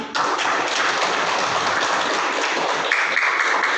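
Students at a junior high school OSIS inauguration, seated outdoors in the heat, clap together in a dense, continuous burst that stays fairly loud from start to finish.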